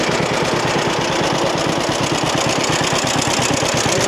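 A John Deere B tractor engine runs steadily with a rapid, even chugging pulse throughout, loud and close, with no talk over it.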